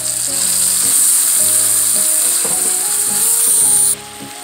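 Ground meat sizzles loudly in hot oil in a pot, a dense steady frying hiss with faint clinks and scrapes of stirring, cutting off abruptly near the end to a quieter hiss.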